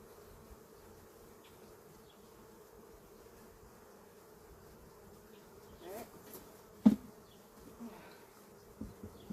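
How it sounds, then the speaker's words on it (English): A steady low buzzing of many honey bees during a honey harvest fills the whole stretch, with a few louder close passes and bumps toward the end. "I don't want these bees stuck in there"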